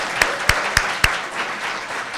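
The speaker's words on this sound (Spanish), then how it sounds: "Un aplauso para todos ustedes." An audience applauds at a Dominican music event, a steady wash of clapping with four sharp, close hand claps standing out in the first second.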